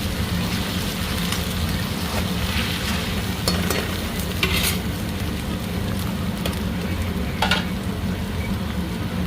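Ginger-garlic paste and onions sizzling in a pan while being stirred, a steady close frying hiss broken by irregular scraping spatula strokes and occasional louder crackles.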